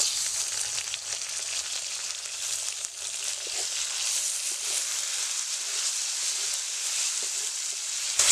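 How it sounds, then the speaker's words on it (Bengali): Chopped tomato fries in a pan over onions already browned with cumin, giving a steady, close, even sizzle and hiss that runs unbroken with no talking. "টমেটোটা আমার ভাজতে হবে একটু লাল লাল করে"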